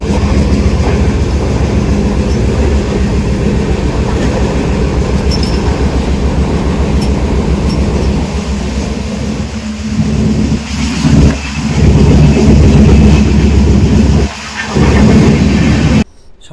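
A train moving near a station in Hyderabad, heard from on board: a loud, continuous rumble of wheels and carriages with a steady clatter, close and dominant for the whole stretch, dipping briefly near the end.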